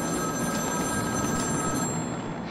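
A telephone rings in the video game Batman: Arkham City, its bright, sustained bell tone sounding over a dense, noisy game background. The ring cuts off near the end.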